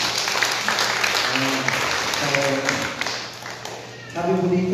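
Church congregation applauding during a worship service, a dense steady clapping texture throughout with voices and some sung tones mixed in underneath.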